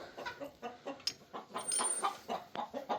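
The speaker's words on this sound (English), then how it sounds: "The twin chickens trying to lay eggs together." Hens cluck in a coop at close range, a rapid, irregular run of short clucks and squawks that keeps going throughout with no voices.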